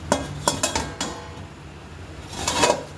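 Metal lid set down on a cooking pot of marinated meat over low-to-medium heat: a few sharp clinks and clatters near the start and another rattle at the end, over a soft background hiss.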